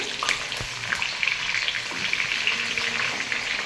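Chopped onions sizzle in hot oil with bay leaves, cloves, cinnamon and dried red chillies for dhaba-style palak paneer, a steady close crackling hiss with small stirring bumps.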